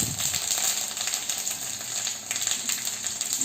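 Mustard seeds, cumin seeds and curry leaves crackle and sizzle in hot oil for a tomato rasam, giving a steady, close hiss with dense popping and spattering and no talk.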